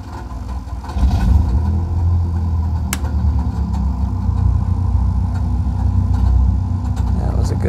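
Cessna 172 piston engine starting and running in Microsoft Flight Simulator 2020, a steady loud low drone that rises about a second in and holds throughout, with a brief click partway through.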